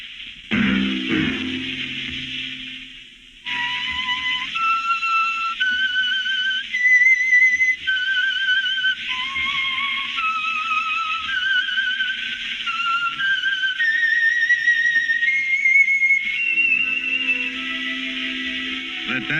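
The theme tune of The Whistler radio program, whistled as a clear, eerie melody of stepped sustained notes, solo and prominent, with a short musical sting at the start.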